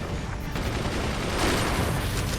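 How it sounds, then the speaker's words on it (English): Heavy gunfire rattles without pause in the physics-based fort battle game Forts, with dense overlapping shots and bursts forming a loud continuous barrage. "It might be just because there's just too much gunfire coming in"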